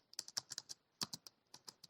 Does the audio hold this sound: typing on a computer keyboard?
yes